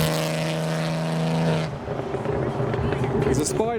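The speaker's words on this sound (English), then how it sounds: "Well, we heard this a mile off. The R32 is back." An R32 car leaving a car show holds a loud, steady engine drone, which then shifts to a rougher, lower sound as it pulls away, with voices or crowd noise mixed in.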